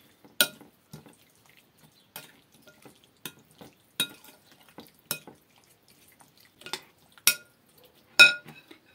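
A spoon stirs a green plum salad with yogurt sauce in a bowl, giving sparse, irregular clinks and taps, some louder than others, against an otherwise quiet background.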